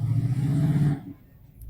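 A truck stuck outdoors revs its engine hard for about a second while its wheels fail to grip, then drops off sharply to a low idle.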